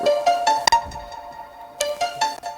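Bright synth pluck notes with hybrid reverb sound in short bursts, a couple of quick plucked hits followed by a ringing decay and another small cluster, clear and close with no voices.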